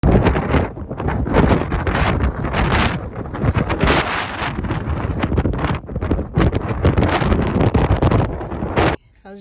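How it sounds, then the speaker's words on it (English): Strong wind gusts buffet the microphone in loud, rumbling bursts that rise and fall, cutting off abruptly near the end; voices are faintly audible underneath. "What are the gusts of winds out there, do you think?"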